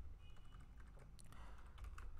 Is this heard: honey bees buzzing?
no